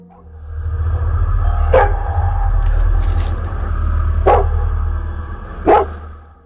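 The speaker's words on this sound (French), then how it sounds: "sur fond sonore de type aboiement" Three sharp dog barks spaced a couple of seconds apart, heard over a steady low hum and muffled background noise, in the horror game Kepther E.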